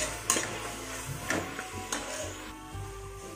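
Fenugreek leaves frying in a pan for pulao, with a steady low background and several sharp scraping clicks of a spatula against the pan, close and moderately quiet.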